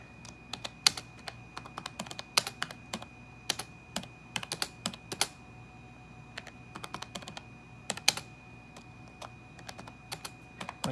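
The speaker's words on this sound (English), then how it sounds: "go ahead and type something here" Keys clatter on a Macintosh PowerBook 190CS laptop keyboard in irregular bursts of close, crisp clicks, with a steady faint electronic whine underneath and no voices.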